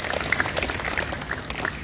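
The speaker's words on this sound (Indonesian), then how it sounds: "Tepuk tangannya mana itu?" Applause from an audience at a school orientation event at a junior high school in Tangerang, scattered clapping with sharp individual claps in a moderately loud, uneven patter.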